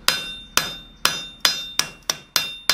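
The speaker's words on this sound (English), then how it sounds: "we're going to use some back face hammer blows to dress out the squareness of the foot" Sharp, ringing hammer blows strike metal seven times at a steady rhythm, forging the foot of a planishing chasing tool, each impact close and loud with a quick decay.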